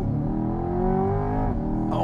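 A 2023 Chevrolet Corvette Z51 convertible launches hard under launch control, its engine revving loud and close with rising harmonic tones across two seconds, the pitch climbing and then dropping briefly at a gear change.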